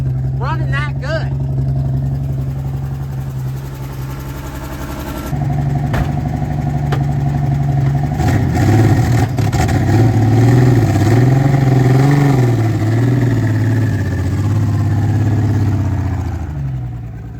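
The engine of a 1965 Ford Econoline van runs loud and close with a steady idling drone, then swells and wavers as the revs rise and fall before settling again.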